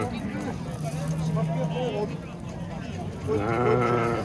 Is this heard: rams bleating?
yes